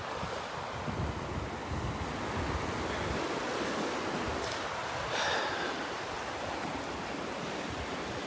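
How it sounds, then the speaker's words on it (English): Ocean waves washing onto a beach at Delnor-Wiggins, a steady broadband rush of surf with wind noise on the microphone, loud and continuous with no speech. "Those waves can definitely work to our advantage, though."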